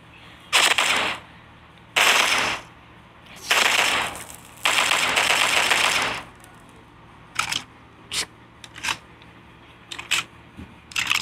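An M14 rifle fires in the video game Forces of Freedom, heard as several sharp, loud bursts of rapid shots. A scattering of shorter, fainter single shots follows them.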